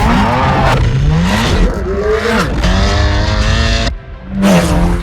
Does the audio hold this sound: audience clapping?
no